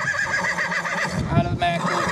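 A yearling colt at a racing yearling parade lets out a loud, close whinny with a quavering, wavering pitch, while someone talks over it.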